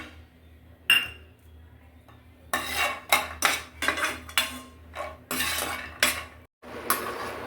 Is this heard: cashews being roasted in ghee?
yes